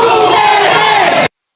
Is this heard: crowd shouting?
yes